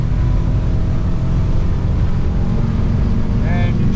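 A 2015 Defiance 25 Admiral boat's Yamaha F300 outboard roars steadily at full throttle, a loud continuous engine drone mixed with rushing water and wind noise from start to finish.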